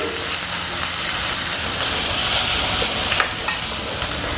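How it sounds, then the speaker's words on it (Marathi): Garlic, coriander and ginger paste fries in a pan for bitter gourd curry, giving a steady loud sizzle and hiss throughout with a few brief stirring scrapes and no talk. "हे जे मी पेस्ट केली लसूण धने आलंची तर ते टाकते हे सगळं व्यवस्थित होऊ देते"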